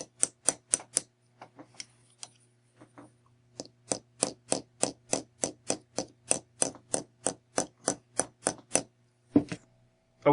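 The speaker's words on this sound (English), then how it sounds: "you've just watched me hammer out these forms using a very light ball peen hammer." A very light 2-ounce ball peen hammer tapping metal wire into spiral earring forms, a close run of sharp, evenly paced metallic taps with a few short pauses, over a faint steady hum.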